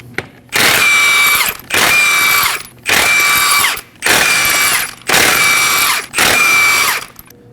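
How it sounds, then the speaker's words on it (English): Power ratchet with a 21mm socket spinning off the lug nuts on a Nissan Armada wheel, six loud, close, evenly spaced whirring bursts, each about a second long with brief gaps between. "go ahead and remove the lug nuts"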